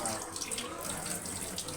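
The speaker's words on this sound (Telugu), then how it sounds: "నేను కడిగి నీళ్ళు పంపేసిన." Water is poured off freshly washed mutton in a short, close splashing gush, like a tap running into a sink, lasting under two seconds.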